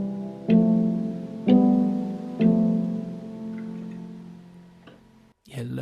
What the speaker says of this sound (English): You hear loads of hiss. There's the sound of the hammers in the piano hitting.